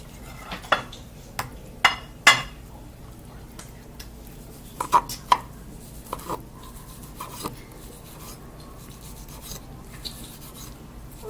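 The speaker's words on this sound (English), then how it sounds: "We're going to chop a little bit more." A knife chops food on a cutting board while pastry puffs are assembled for a surf and turf dish, a series of crisp, fairly close taps, irregular and spaced apart, over quiet kitchen background.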